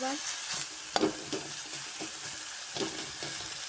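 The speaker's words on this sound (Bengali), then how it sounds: "এবার এতে সব ভেজিটেবলসকে ঢেলে দিয়েছি। ভালো করে ফ্রাই করতে হবে।" Vegetables and garlic stir-fried for chow mein, a steady close sizzle with occasional sharp clinks and scrapes of a spatula against the pan.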